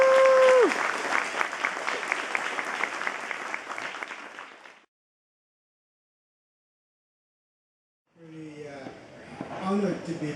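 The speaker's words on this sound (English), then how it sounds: "please give them a big round of applause" Audience applause at the grand opening of the Chestermere emergency services building, dense and loud for about five seconds before stopping dead, followed by silence and then someone speaking.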